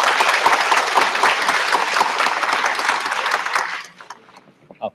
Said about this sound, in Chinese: 请大家热烈掌声以示欢迎